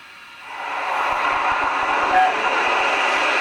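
A Hornby Silver Fox model locomotive runs on heavy haul setting with its sound chip chuffing at three chuffs per revolution, a steady, close mechanical rumble that swells after half a second and keeps an even, rapid beat.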